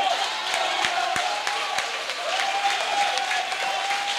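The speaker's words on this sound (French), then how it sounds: "tu dois te lever et acclamer Jésus" A church congregation applauds and cheers for Jesus, with dense, steady clapping and crowd noise running loud throughout, and a sustained tone holding underneath.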